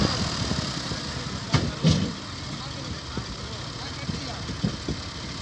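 A Massey Ferguson 260 tractor engine runs steadily at a low idle-like rumble, close by, with a few brief knocks and thumps over the continuous drone.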